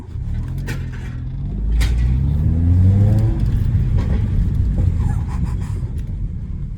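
A Mercedes CLA 45 with a loud aftermarket exhaust revs and pulls, its deep rumbling exhaust swelling in a rising surge before settling into a steady drone while driving.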